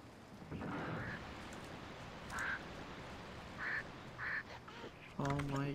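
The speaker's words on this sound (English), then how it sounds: "It's crazy that the bird actually can follow you all the way here." A bird trailing the player in Tomb Raider II gives repeated short squawks that sound like quacks, about four separate calls under steady rain-like ambience, ending with a louder burst.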